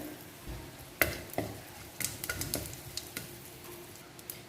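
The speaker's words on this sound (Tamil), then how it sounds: "தாளிக்கிறதுக்கு நான் கடுகு உளுத்தம் பருப்பு ஆட் பண்ணிக்கிறேன்" Oil sizzles and crackles as mustard seeds and urad dal hit the hot pan, with a few sharp pops and stirring clatter, close and moderately loud, no voices.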